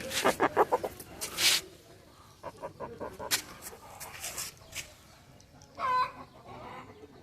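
Hens clucking and calling on a farm where a new, tall, double-bodied country breed bird has arrived; a run of sharp close clucks, then scattered cackles and a brief crow-like call near the end, no talk.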